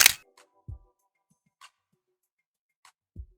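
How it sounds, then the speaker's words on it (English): A Hasselblad 2000 FC/M medium-format camera with the mirror locking up and the shutter misfiring, producing a sharp opening click followed by a few sparse, faint mechanical clacks and ticks spread apart in quiet. "the camera does make a particular noise when the mirror locks up and the shutter doesn't fire properly"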